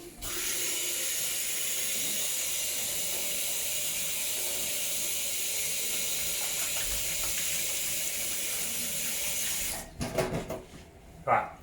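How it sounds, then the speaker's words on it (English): Tap water running steadily as hands are washed, a loud continuous hiss for about ten seconds, then the flow stops and a few brief splashes and knocks follow. "Wash my hands quick"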